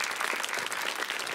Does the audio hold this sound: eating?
no